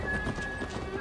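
A horse in Assassin's Creed Valhalla whinnies while its hooves clip-clop at a steady trot, the neigh and footfalls close and fairly loud throughout the short stretch.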